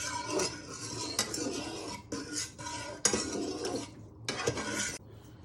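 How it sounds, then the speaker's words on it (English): Fork stirring egg ramen soup in a bowl or pot, several bursts of close metallic scraping and clinking against the dish, separated by short pauses. "And you just give that a little stir"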